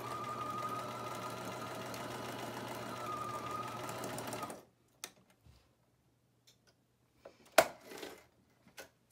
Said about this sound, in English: I'm going to just zigzag right along that raw edge.